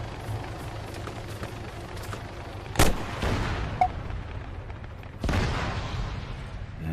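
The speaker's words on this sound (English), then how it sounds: "quite a nice shot with the MAAWS there" MAAWS recoilless rifle fired in Arma 3 combat: a sharp, loud blast near the three-second mark with a rumbling tail, then a second heavy boom later, over distant crackling gunfire and no talk.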